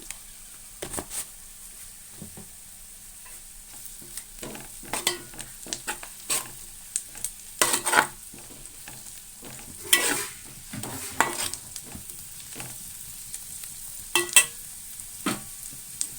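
A prawn and drumstick curry base with turmeric frying in a pan, with quiet low sizzling under repeated irregular bursts of stirring and scraping, some louder strokes standing out.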